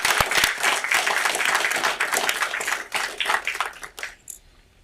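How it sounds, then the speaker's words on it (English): Audience at a parish council meeting giving a round of applause, brisk dense clapping from a room of people that thins out and fades to a few last claps and near quiet. "let's give her another round of applause."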